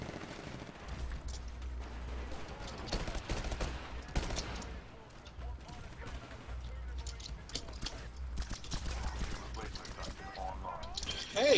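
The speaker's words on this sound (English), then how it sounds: "I'm trying to shoot you for crying out loud!" Gunfire in the video game Titanfall comes as rapid bursts and scattered shots over steady game background noise, with someone talking at times.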